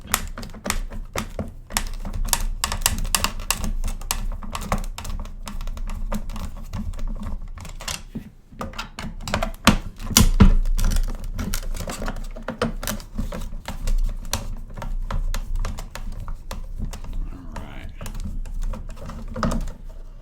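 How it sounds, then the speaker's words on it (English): Hefty rusty screws are worked loose from an electric grass trimmer, giving a steady run of close, sharp clicks and taps while someone talks throughout. "Man, these are hefty screws. I've never taken one of these weed eaters apart before."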